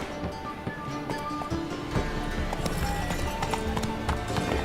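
Horse hooves clip-clop at a steady gallop in The Witcher 3: Wild Hunt, with continuous rhythmic thuds over background game sound and music, nearby and moderately loud, with no speech.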